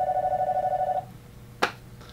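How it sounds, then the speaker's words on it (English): A telephone rings with a fast warbling trill for about a second and then stops, followed by a single sharp clack, moderately loud. "answer the phone"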